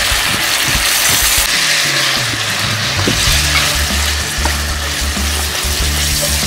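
Potato slices stir-frying with onion in a hot wok, a loud continuous sizzle with scraping and tossing of the food, no voices over it.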